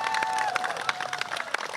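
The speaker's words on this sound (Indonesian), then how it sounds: "Tepuk tangan ikhlas semua ya." Audience clapping at a charity event for Cianjur earthquake victims, scattered claps and light crowd noise at a modest level, with a sustained tone and some voices running underneath.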